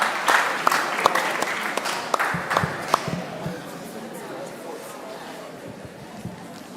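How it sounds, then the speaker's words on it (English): A room of mentorship-session attendees breaks into brief applause with sharp individual claps, fading after about three seconds into murmuring chatter and quieter scattered taps. "Give me a round of applause."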